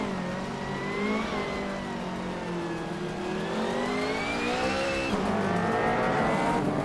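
Race cars running nose to tail, engines whining in rising and falling pitch as they accelerate and ease off, close and continuous, with a sharp gear shift near the end and no voices.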